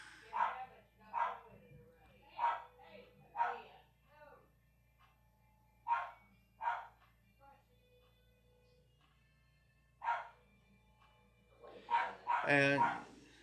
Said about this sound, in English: that's my friend's dog.